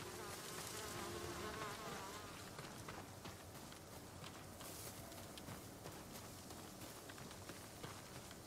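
Bees buzz steadily in Ghost of Tsushima on Iki Island, a faint, continuous insect drone with overlapping wingbeat hums and no voices over it.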